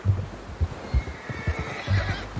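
A horse in the video game Red Dead Redemption 2 neighs and snorts close by, with several low throbbing snorts and shuffling hoof sounds over about two seconds.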